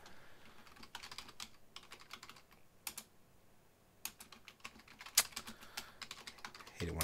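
Keyboard typing during a Quest for Glory 2 playthrough, with bursts of keystrokes in quick irregular runs and short pauses between them, fairly close and clear, with no talking.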